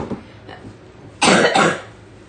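A couple of faint throat sounds, then a loud, close double cough in quick succession, fading out afterward.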